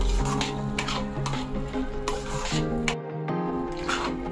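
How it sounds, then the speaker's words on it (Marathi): Ground masala paste sautéed in oil for a Malvani fresh cashew curry, a close, crackling sizzle broken by repeated scraping and tapping of a spoon against the pan, with no talking. "तर आता ह्या वाटपाला तेल सुटेपर्यंत आपल्याला परतून घ्यायचंय"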